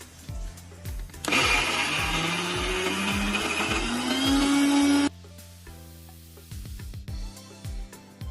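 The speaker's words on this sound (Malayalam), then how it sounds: "കുറച്ച് വെള്ളം കൂടി ഒഴിച്ചിട്ട് നല്ല ഫൈൻ പേസ്റ്റ് ആയിട്ട് അടിച്ചെടുക്കണം" A mixer grinder whirs loudly for about four seconds, blending masala with water into a fine paste, its steady roar beginning and ending abruptly among rhythmic knocking sounds.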